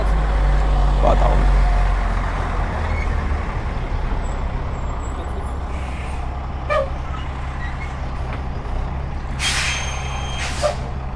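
A truck passing outside a press conference in Maniwaki, Quebec, a loud steady low engine rumble that fills the whole stretch, with faint hiss and brief beeps, no talking over it.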